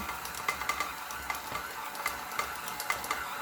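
An electric mixer works gingerbread dough with a continuous whirring hum, broken by rhythmic knocks and scrapes as the beaters hit the bowl.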